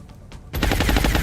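A gunner's machine gun firing in the strategy video game XCOM: after a brief quiet moment, a loud, rapid burst of rattling shots kicks in and continues steadily to the end.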